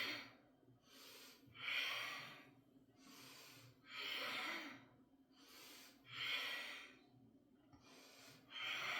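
Five slow, audible exhales during a core workout, each a breathy rush lasting about a second, evenly spaced with quiet inhales between them, close and alone.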